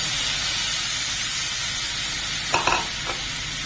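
Boiled sweet corn kernels frying in butter in a pan over low heat, with a steady soft sizzle throughout and a few brief scraping stirs near the end.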